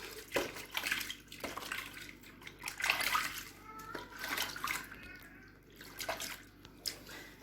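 Water splashes and pours in uneven bursts as feet are rinsed during a foot-care routine, close by, with a voice talking softly in between.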